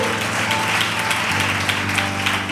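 A worship congregation applauds and acclaims God during an evening service, broad continuous clapping with a low hum and tonal sound underneath.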